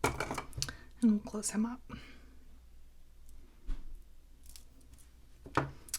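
Scissors snip through bracelet stringing wire beside a crimped strand of a mookite multi-strand bracelet, giving brief close cuts that come between bits of quiet talk.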